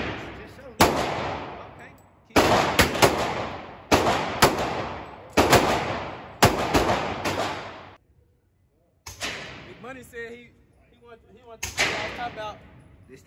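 Gunfire at a shooting range: about six loud, sharp shots spaced a second or two apart, each with a ringing decay, then a brief pause before voices talk over a final closer shot.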